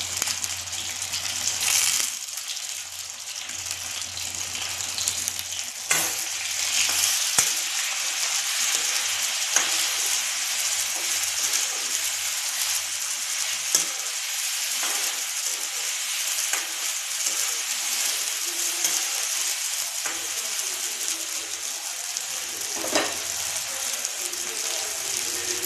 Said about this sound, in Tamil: இப்போ நம்ம வெங்காயம் அரைச்சி வச்சுருக்கோம்ல, அந்த வெங்காயத்தை ஊற்றிக்கலாம்.